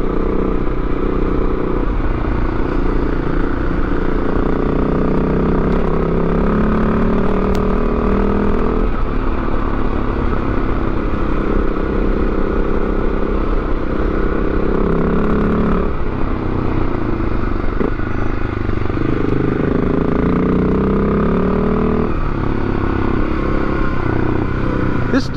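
A 650 motorcycle engine on a ride near Tarra Bulga National Park: continuous loud engine roar with rising and falling revs as it is worked hard, plus wind and road rumble, heard close the whole way through.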